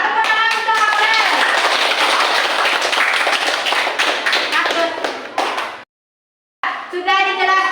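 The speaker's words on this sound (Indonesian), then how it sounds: "tepuk tangan untuk Aurel" A class of schoolchildren claps for a student during a lesson, a busy burst of close hand claps over several seconds with voices mixed in, cutting out briefly before resuming.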